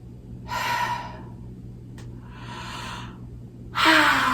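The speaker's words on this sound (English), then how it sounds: "A nice full breath." Deep full breaths during a yoga hip-release session: three slow, airy inhales and exhales, close and clear, separated by quiet pauses, the last one louder and sharper.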